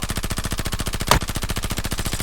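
Sustained machine gun fire in the video game Warzone, a rapid, even stream of shots that runs the whole stretch, loud and close, with one brief sharper burst partway through and no voices over it.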